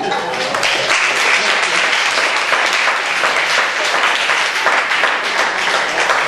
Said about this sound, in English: so thank you for the applause